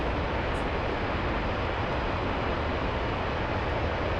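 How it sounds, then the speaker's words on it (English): A steady, loud broadband roar of an aircraft engine running in a flight simulator game, continuous and unchanging throughout with no breaks. "Why is the engine running again?"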